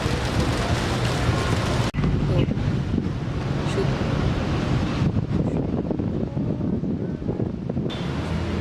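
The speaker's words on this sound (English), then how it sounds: "It's starting to rain." Rain begins amid gusting wind, a loud continuous rush of wind buffeting the microphone with hissing rainfall, broken by abrupt cuts between shots.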